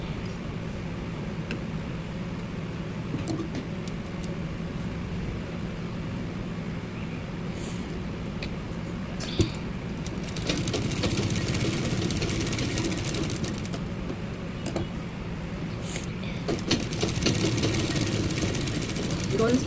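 A sewing machine stitches a katori blouse, a steady close mechanical whir with faint rhythmic ticking throughout, while someone speaks over it.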